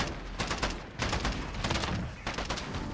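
Rapid clusters of burst-fire gunshots from an assault rifle in Modern Warfare 2019, loud and close, repeating in short volleys with brief gaps between them.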